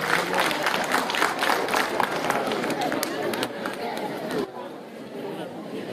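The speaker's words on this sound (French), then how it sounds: "Applaudissements également." Applause from an audience at an Indian trade fair gathering, dense rapid clapping mixed with crowd chatter, steady and moderately loud before thinning out near the end.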